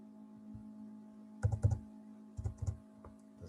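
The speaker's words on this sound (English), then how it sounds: "we're going to type in CMD" A computer keyboard sounds in two short clusters of sharp, close keystrokes separated by a quiet gap, like a brief command being entered, with a faint steady hum underneath.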